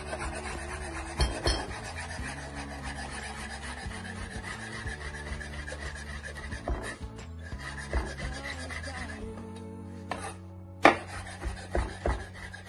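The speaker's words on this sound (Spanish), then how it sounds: "pasamos con los champiñones y lo picamos también" Mushrooms are chopped with a knife on a board, heard as close, scraping and rubbing cuts with a few sharper knocks, irregular and fairly quiet, with no talking.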